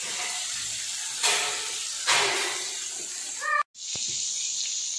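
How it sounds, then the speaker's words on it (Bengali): Poa fish fritters frying in hot oil in a kadai give a steady broadband hiss, with two louder sizzling bursts as pieces go in and a brief cut-off near the end before the hiss resumes. "এগুলো আমরা এখন তেলে ভাজার জন্য নিয়ে যাব।"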